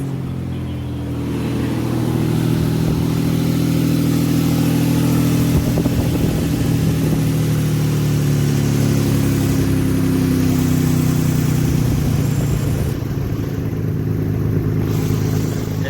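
A Nissan Tiida fitted with a converted alternator starts up after a brief crank and then runs at a steady, loud idle with a low, even engine drone nearby for the rest of the time.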